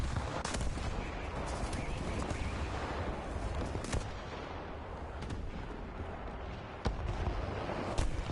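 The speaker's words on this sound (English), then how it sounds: "I'm gonna drop artillery on him." Artillery fire in the War Thunder video game gives heavy, rumbling booms over a constant dense battle noise, with several sharp reports spaced a second or two apart.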